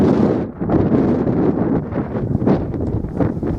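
Strong wind buffets the microphone on open moorland at Rough Tor on Bodmin Moor, Cornwall, a loud continuous roaring rumble with gusty surges and no talking.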